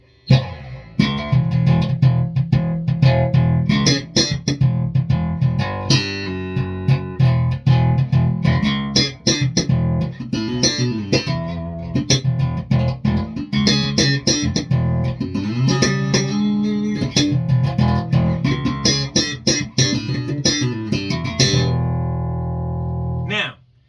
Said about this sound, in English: What you hear is bass and mids.